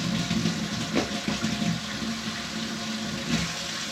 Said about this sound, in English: Fill to the internal black line with water from the hot tap.